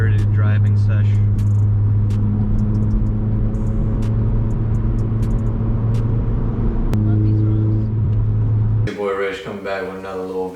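An Acura TSX is driven spiritedly on a road, its steady engine drone and road rumble loud and continuous, shifting pitch as gears change, with a voice briefly speaking near the end.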